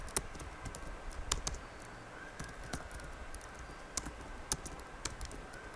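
Keystrokes on a computer keyboard come in irregular bursts of sharp clicks, close and fairly quiet, with no speech over them.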